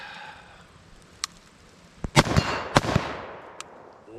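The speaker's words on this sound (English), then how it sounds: "Let's just go ahead and take a couple shots real quick." A handful of sharp rifle shots fired through a muzzle device such as a Surefire Warcomp, Lantac Dragon or A2 flash hider, outdoors, with a few loud cracks trailing off into echo and quiet gaps between them.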